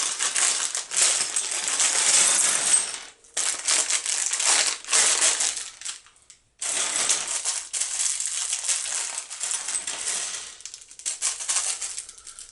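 LEGO pieces from a Star Wars Dark Falcon building set are dumped out of their bags onto a surface, a loud, dense rattling and crinkling clatter in several long bursts with short pauses between, close to the listener.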